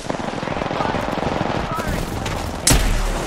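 Rapid automatic gunfire in the battle royale game Apex Legends, a dense continuous rattle of shots with a heavier impact near the end, close and loud under a player's excited speech.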